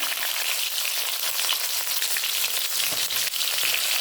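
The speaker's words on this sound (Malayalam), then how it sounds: "കടുക് പൊട്ടി നമുക്ക് കൊച്ചുള്ളി ചേർത്ത് കൊടുക്കാം" Mustard seeds and shallots fry in hot sesame oil for a brinjal curry, giving a loud, continuous crackling sizzle with scattered pops and no talking.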